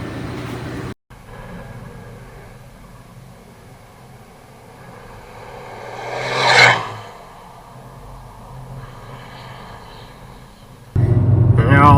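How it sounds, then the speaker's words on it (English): A lifted 2018 Dodge Ram 3500 pickup rolls down the road with a steady low engine and road drone, swelling briefly as something passes close, then cutting to a louder burst at the end. "we're going to run it down the road and take it for a little ride here"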